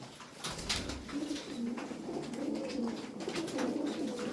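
Pigeons coo in soft, repeated throaty phrases, several birds overlapping at moderate distance over a quiet background.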